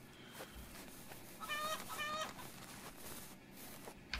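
Chicken clucking in the farming and witchcraft video game Witch of Fern Island, near a ruined house, heard as two brief bursts of rapid clucks over quiet ambient game background, with no talk.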